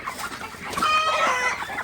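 Broiler chickens on a poultry farm in Faridpur, Bangladesh, cluck and squawk close by. Several overlapping birds make a busy, continuous clucking chatter with a drawn-out call near the end.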